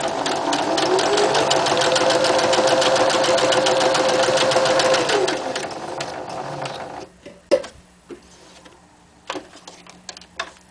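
A sewing machine runs steadily, stitching rows into card for about five seconds, then stops, leaving a few sparse clicks and handling sounds.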